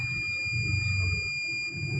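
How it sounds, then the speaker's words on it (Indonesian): The buzzer on an Arduino distance-sensor circuit sounds a steady, thin high-pitched tone that holds unbroken throughout, fairly quiet above a low room rumble. "lalu buzzer menyala"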